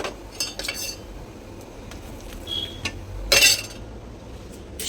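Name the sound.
spoon clinking against dishes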